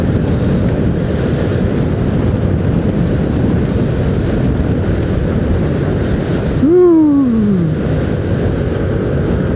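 Loud, steady wind roars across the microphone on a motorcycle ride up to cold, misty Kundasang, with a brief rising whine near the end.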